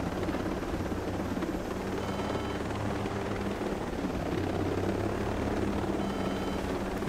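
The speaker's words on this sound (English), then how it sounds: "It is a little bit difficult to fly with a broken chopper, though." A damaged helicopter flying in the video game Ghost Recon Breakpoint gives a loud, steady rotor and engine roar that runs unbroken for the whole stretch, with no talking.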